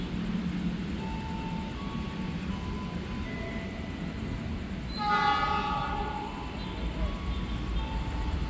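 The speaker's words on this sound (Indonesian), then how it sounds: "Purwojaya diberangkatkan dari Jatinegara ke Gambir." The Purwojaya train rumbles out of Jatinegara station in Jakarta at night, a low steady rolling under scattered station tones, then its horn sounds loudly for about a second near the middle before the rumble continues.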